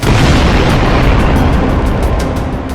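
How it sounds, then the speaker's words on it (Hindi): Bombing in Tehran's eastern Pardis district during an airstrike, heard as a loud, sustained rumbling roar of explosions filling the whole stretch with no talk over it. "तेहरान के कोने कोने में बमबारी हो रही है।"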